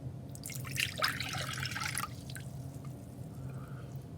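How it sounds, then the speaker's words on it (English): Borax solution for homemade slime pours into a large bowl, a brief liquid splash and trickle lasting about a second before fading into quiet room tone. "first, we'll pour out the borax solution"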